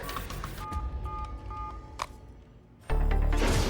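A telephone is dialed for a call, a quick series of short keypad beeps followed by a moment of quiet, then a loud burst of noise.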